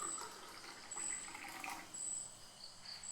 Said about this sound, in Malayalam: നമ്മൾ തന്നെ വെള്ളം എടുത്ത് ഗ്ലാസ് വാട്ടർ എടുത്ത് ഒഴിക്കാൻ പോവാണ്.